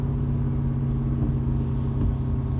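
A tuned 2018 Ford F350 Powerstroke diesel pickup descends a mountain pass with its brakes applied, giving a steady, loud low engine rumble and drone heard close inside the cab with no talk.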